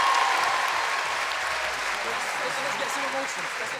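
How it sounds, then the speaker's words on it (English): An audience at a London talent-show finale gives a steady round of applause, a dense close wash of clapping that holds for several seconds and eases slightly toward the end. "round of applause to Imam Hussein TV"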